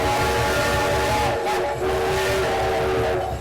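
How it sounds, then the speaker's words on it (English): Tony, a small engine, blows a long, loud air whistle that holds a steady tone over rumbling railway noise throughout. No voice is heard. "He took a deep breath and blew his air whistle the longest and loudest."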